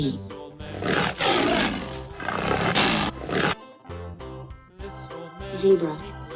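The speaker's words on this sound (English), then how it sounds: "tiger, 호랑이," A tiger's roar, loud and close, a rough growling burst lasting a few seconds before music takes over.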